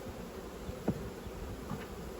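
Honey bees buzz faintly but steadily around an opened, weak beehive during an inspection, a soft continuous hum with a couple of brief closer passes.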